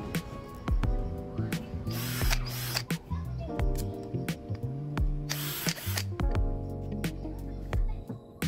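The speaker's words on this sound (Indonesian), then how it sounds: "Saya dapat dengan mudah menembus kayunya dengan mata kipas itu." A DongCheng DCJZ1202i cordless drill bores through wood with a 10 mm spade bit, its motor whining in repeated short bursts with pitch dropping under load, close and loud, with ratcheting clicks and pauses between runs.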